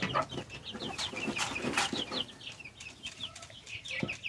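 Backyard hens and young roosters cluck and chatter in a steady stream of short repeated calls, fairly close but soft, with faint outdoor background and no talking.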